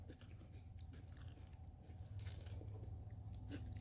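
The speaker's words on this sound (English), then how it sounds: "You hear that crunch?" Crisp bites and crunching chews on the skin of a fried fish tail, close to the mic, with sharp irregular crackles over a soft background hum.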